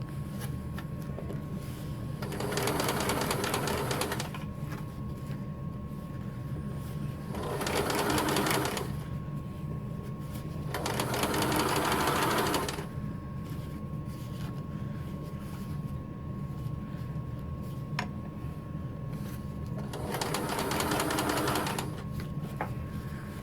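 A sewing machine stitches the straps of a heavy-duty bookbag back on, running in four separate bursts of rapid whirring with quiet pauses between them, close by.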